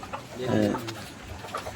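Desi chickens clucking inside cages, one short near cluck rising briefly over a soft room background while a person speaks a single word.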